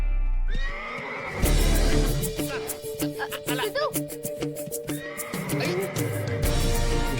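A horse whinnies loudly at close range during a training scene in a Telugu film, with a shaky rising neigh in the middle, a low snort and a few soft hoof sounds.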